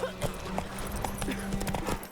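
A horse's hooves clip-clop in a quick, even rhythm in The Witcher 3 video game, moderately loud and close, with faint game ambience beneath and no talk over it.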